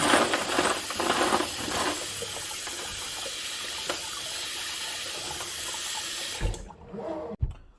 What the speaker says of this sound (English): to rinse the soap off of the brass, we'll just run some water over it